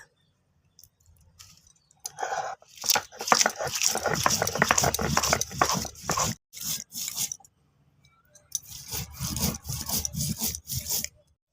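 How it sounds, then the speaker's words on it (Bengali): Dried and green chillies are ground on a flat grinding stone, a rough, rhythmic rasping scrape in long bursts broken by short pauses, close and fairly loud, with no voices. "এখানে আমি বেটে নেব শুকনো লঙ্কা আর কাঁচা লঙ্কা"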